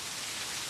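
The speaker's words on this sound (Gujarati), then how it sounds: "વાંધો નહીં, વરસાદ ચાલુ થઈ ગયો" Rain falling steadily, a dense, even hiss of drops on surfaces, close and continuous for a brief moment with no other sounds.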